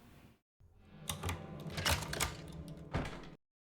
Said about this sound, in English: I love the satisfying sound of the key turning in the lock